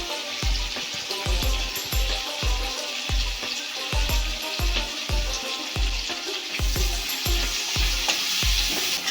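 Two large chopped onions fry in oil with whole cumin, a steady loud sizzle broken by a regular series of scraping stirs, roughly one every half second, close up with no talk.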